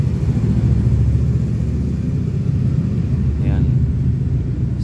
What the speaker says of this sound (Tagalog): may gawa ng motor guys, maingay